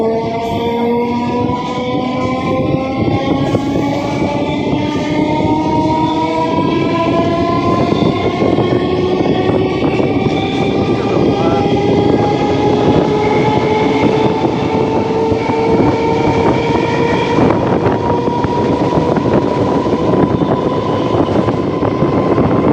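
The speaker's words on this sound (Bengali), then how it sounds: "এই যে ট্রেন আসছে একটা সামনে দিয়ে।" A train passes close by near a station, a loud, sustained rumble and clatter with a long horn blast that rises gradually in pitch throughout.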